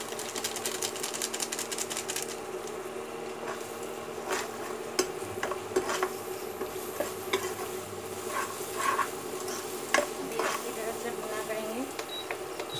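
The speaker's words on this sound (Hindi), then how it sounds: "उसको भूनेंगे अभी पूरा पूरा पीला पीला हो जाए, पूरा भुनना है।" Cumin and meat masala fry in a pan for pakora curry, a soft steady sizzle with frequent clicks and scrapes from stirring, faint and close throughout.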